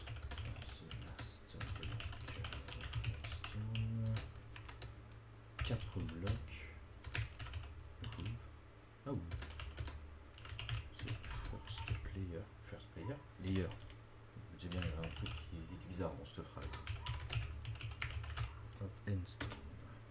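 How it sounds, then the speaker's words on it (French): Rapid computer keyboard typing clatters in bursts of keystrokes during a Minecraft modpack session, close and prominent, while someone talks over it on and off throughout. "Désolé pour les bruits de clavier, ça va taper."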